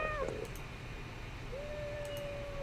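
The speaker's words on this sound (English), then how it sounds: "Is that your cat or mine?" A house cat meows twice, a short cry at the start and a longer drawn-out meow near the end, fairly close over quiet room background.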